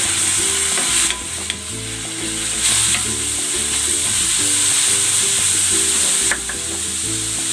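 Chicken sautéing in a pan for pancit sotanghon guisado, a loud, dense and continuous sizzle with intermittent stirring clatter and low tonal hum underneath, close up and without speech.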